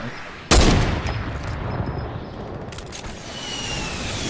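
Gunfire in the Fortnite video game: one sharp, loud shot opening the passage with a decaying tail, followed later by a brief quieter burst, over a steady game ambience.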